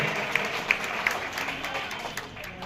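Audience applause follows a call for loud clapping at a police and commander felicitation event in Fatehpur Khaga, a dense, continuous wash of many hands with a few sharper individual claps standing out.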